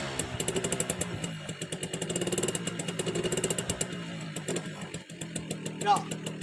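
A Yamaha V75 motorcycle engine putters in a fast, steady knocking rhythm, close by, with a voice briefly talking over it.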